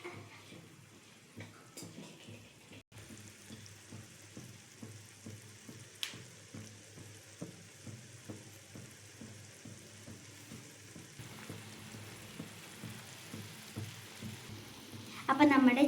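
Chopped spinach frying in a pan while being stirred for a spinach curry, a low steady sizzle with rhythmic soft scraping strokes, fairly faint and close, growing louder near the end.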